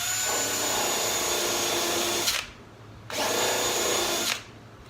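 A power tool cutting a bevel into wood, heard as two loud, close bursts of high whining grind, each lasting about two seconds, separated by a short quieter pause.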